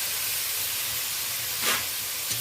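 Grated tomato goes into a hot oiled pan for a pomfret fish curry, setting off a short burst of sizzling hiss over a low steady background.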